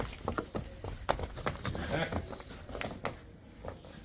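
Buffalo hooves clop at a slow, uneven walking pace on hard ground, fairly close, with faint outdoor background noise throughout.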